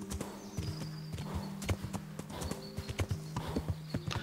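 A horse is ridden in the medieval video game Kingdom Come: Deliverance, its hooves clip-clopping in a steady, close rhythm over a low ambient hum, with occasional faint jingles and no speech.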